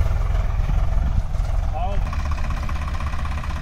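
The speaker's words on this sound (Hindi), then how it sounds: "ट्रैक्टर चल दिया," Swaraj 855 or Ford 3600 tractor engine running steadily on a main road, a continuous low diesel rumble throughout, close and fairly loud, with a brief brighter whine in the middle.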